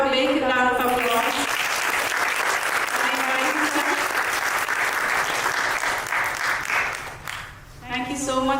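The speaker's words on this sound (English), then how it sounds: "Please have a big round of applause." An audience at a spiritual talk gives a big round of applause, dense sustained clapping filling the room, with voices heard briefly at the start and end.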